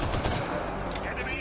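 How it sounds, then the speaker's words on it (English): Rapid gunfire in the Mass Effect: Andromeda video game, a dense burst of sharp repeated shots, close and loud, with voices faintly underneath. "Someone's steadily shooting at me."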